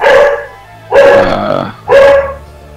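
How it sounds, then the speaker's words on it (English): A dog barks loudly and close by in three separate bursts, about one second apart, with a short growling yip inside the middle burst and no talk over them. "Now his dog's barking."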